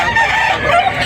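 A rooster crows loudly and close at a Filipino chicken market, one short sustained call with heavy market noise around it.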